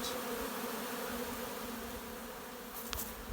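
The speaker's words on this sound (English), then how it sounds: "a bunch of young bees just getting out, stretching their wings, marking their location" Dense, steady buzzing of many honey bees close by at a hive entrance, a continuous droning hum with no voices.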